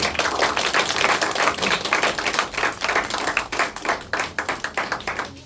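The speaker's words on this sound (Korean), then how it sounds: "다시 한번 집사님께 큰 박수 부탁드립니다" A high school church group claps for a guest speaker after a seminar: a lively patter of distinct, close hand claps from a modest crowd, continuous and uneven in rhythm, with no talking over it.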